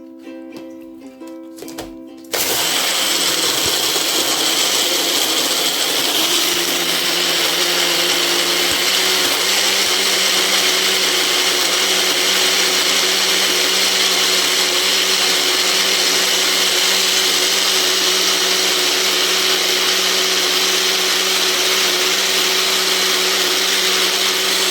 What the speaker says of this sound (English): This is the blender here.